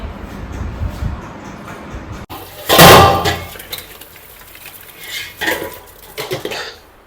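Dishes and cutlery clatter and clink intermittently, with a louder burst of scraping and rattling near the middle and a few later knocks.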